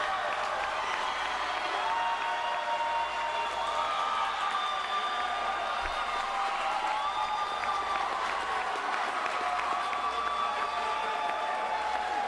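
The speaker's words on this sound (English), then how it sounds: "The crowd goes wild." A wrestling crowd roars and applauds after a tap out, a dense, sustained wall of cheering and clapping that stays loud and steady throughout, with scattered whoops rising above the mass.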